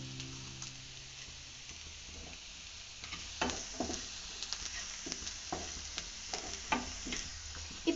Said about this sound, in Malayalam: ഇനി നമുക്ക് ആവശ്യത്തിന് ഉപ്പും കൂടി ഇട്ട് നമുക്ക് നന്നായിട്ട് വഴറ്റിയെടുക്കാം.